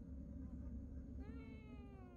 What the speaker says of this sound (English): Hello, little cat.